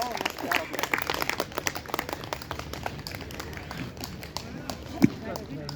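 A group in a weight-loss power yoga and aerobics class claps in a rapid, dense burst that thins out into scattered claps, with a voice talking over it.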